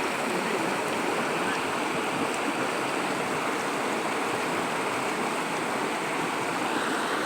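Continuous rushing of a flowing river, a dense steady hiss and gurgle of moving water with no pauses, close and fairly loud, with no talking.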